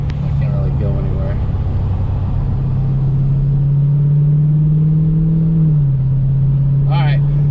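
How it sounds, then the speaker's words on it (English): A Dodge Challenger 392 fitted with Dynomax Race Bullet mufflers accelerates in traffic, its exhaust a loud, steady low drone that climbs slightly before a brief gear-shift dip near the end. A voice is faintly heard at moments. "When I hit the gas, it gets real loud."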